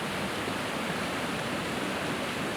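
Rapids on a mountain river in the Gorgany, the Svicha at the Bukovynskyi threshold, rush with steady broadband roar, loud and close, with no break and no voices.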